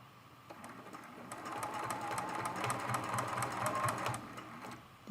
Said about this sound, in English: She don't like sewing sideways this evening.